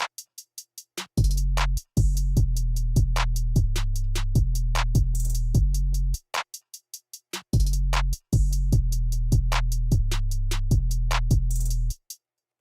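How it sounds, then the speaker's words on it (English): A type-beat drum pattern plays back with booming 808 bass hits under quick, crisp hi-hat ticks and snappy snares, looping in a steady rhythm with a short break midway; no talking. "So all together, the drums sound like this."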